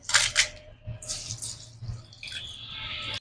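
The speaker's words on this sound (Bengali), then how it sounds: "ধুয়ে এবার আমি চালটা জল ঝরিয়ে শুকাতে দেব" Rinse water drains and drips out of freshly washed rice in a kitchen strainer, with splashy trickling bursts that come and go over a few seconds.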